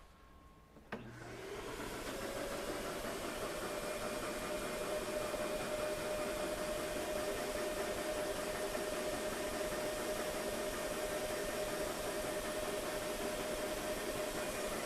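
A DeWALT Stealth Sonic DXV12P 12-gallon wet dry vacuum starts with a click and runs with its filter removed, a steady broadband whoosh of airflow with a faint tonal whine, constant throughout.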